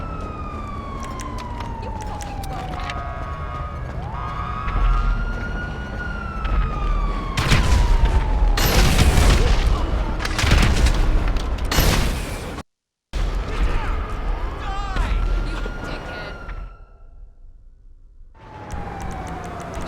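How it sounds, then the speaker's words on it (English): Repeated explosions from RPG or homing launcher fire in a video game, loud bursts and crackling impacts layered over siren-like wails and gameplay noise, with a brief cut to silence partway through. "And then I caught her again with another RPG or homing launcher right here."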